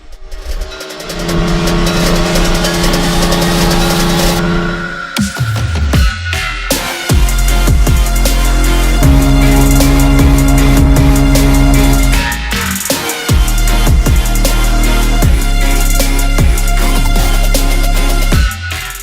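A Yamaha YZF-R15 V3.0 motorcycle engine revs repeatedly, loud and close, with several sustained high blips, drops back to idle and a brief pause before climbing again, without any talk.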